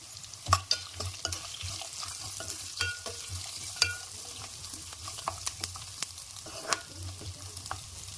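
Tender tamarind leaves and spice powder for a fried rice fry softly in a pan, a low continuous sizzle broken by frequent small pops and crackles, close and fairly quiet with no voices.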